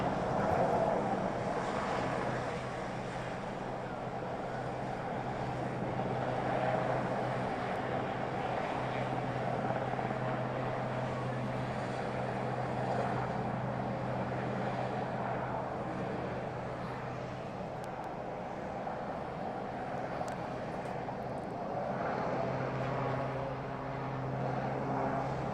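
A Royal Navy Commando Sea King military helicopter performing at the Eastbourne International Airshow, a distant continuous rotor and engine drone rumbling steadily over a long stretch with crowd ambience.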